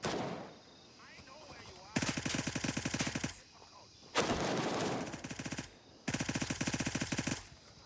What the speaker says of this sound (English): Absolute mag dump mode. I was just shooting at the light.